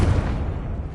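A Confringo spell blows up in Hogwarts Legacy with a sudden, loud, close burst, followed by a short rumbling boom that fades within a second.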